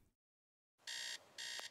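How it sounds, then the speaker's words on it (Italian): Two loud electronic alarm tones blare in short bursts, each about a third of a second long, inside the video game Teardown, with a brief sharp click between them and silence before. "L'allarme."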